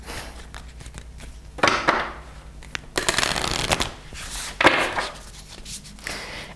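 A Moonology Oracle card deck is shuffled by hand in several riffling bursts with papery flutters and soft taps between them, close and moderately loud.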